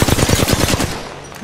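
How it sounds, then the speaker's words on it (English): Rapid bursts of enemy gunfire in the Apex Legends video game, a fast stuttering run of loud, close automatic shots that thins out into a fading tail after about a second. "The enemies are shooting at me."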